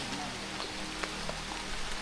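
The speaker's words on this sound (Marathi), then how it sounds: "पाऊस पण यायला लागला" Rain falling during a humid ghat trail trek, a faint steady patter of drops on surfaces with a few soft individual hits and a low background hum.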